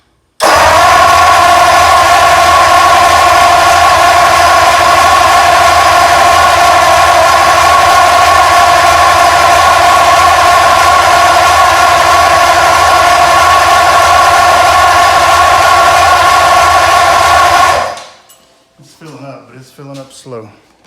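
A vintage engine on a run stand is spun over on its starter to fill the fuel filter: a loud, steady, close-up whirring crank drone for about seventeen seconds, which stops abruptly and is followed by a brief voice.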